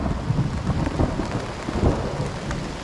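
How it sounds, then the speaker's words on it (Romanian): Thunder rumbles through a heavy mountain storm with steady rain pattering on surfaces, low booming rolls swelling and fading over a continuous wash of rainfall, no voices. "Deci tună de rupe."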